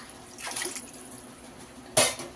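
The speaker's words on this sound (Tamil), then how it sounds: "இப்போ நம்ம இன்னொரு டைம் தண்ணி ஊற்றிக்கலாம்." Water poured into a pot of fish sambar comes as two short splashing gushes, the second louder and brighter, heard up close with no one talking.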